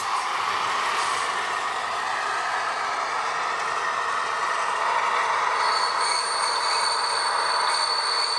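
An H0-scale model train grinding around a curve with a steady, high-pitched wheel squeal that grows sharper toward the end as it brakes to a stop, no voices present.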